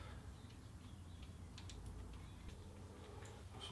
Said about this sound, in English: I put some washers and nuts on the handlebars